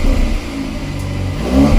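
Stock factory exhaust on a 2023 VW Golf R rumbles as the engine revs, a short low burst that dips briefly and then climbs again at the end, close by with no talking.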